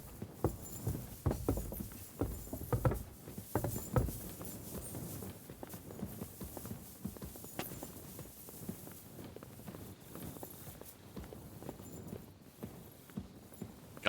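A horse's hooves clip-clop steadily at a walking pace in the medieval game Kingdom Come: Deliverance II, close and moderately quiet, with a continuous rhythmic patter of footfalls and no talking.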